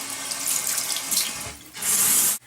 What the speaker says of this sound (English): now I am going to rinse off my face